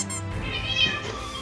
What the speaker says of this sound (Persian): حواسش هم پای گربه لگد کرد